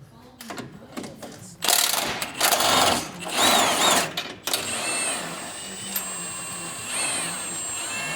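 A power tool on a 4G Toyota Tacoma works a shock bolt loose with several loud bursts of mechanical whirring and rattling, then a steady high-pitched whine with lighter clanks.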